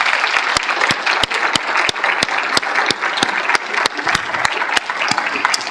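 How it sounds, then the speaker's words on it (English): An audience at a League of Women Voters forum in Sioux Falls applauds its elected officials with loud, sustained clapping, while sharp individual hand claps cut through at close range. "Let's give our elected officials a round of applause."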